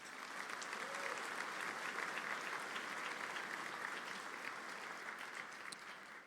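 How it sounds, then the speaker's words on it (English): A large crowd at a graduation commencement ceremony gives steady, even applause, dense and distant-sounding, continuing quietly for several seconds with no break. "So please give them a round of applause"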